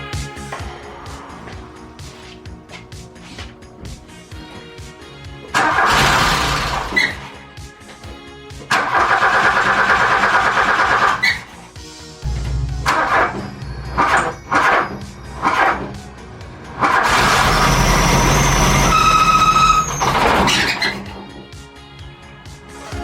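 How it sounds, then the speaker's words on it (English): A Volkswagen Golf Mk1 with a swapped engine cranks and catches several times, each start followed by stretches of loud rough running and revving, separated by pauses, with a high whine during the final run. "try to get it running again"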